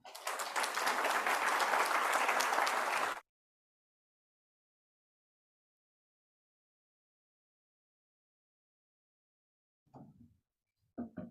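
A conference audience applauds the director in a loud, dense burst of clapping lasting about three seconds, then cuts to long silence before brief faint speech sounds near the end.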